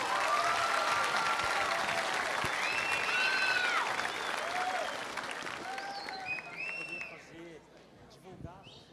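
A church audience applauds a Vicentine youth group from Campinas at a Catholic praise event, with dense, sustained clapping under scattered voices and shouts that thins and fades toward the end.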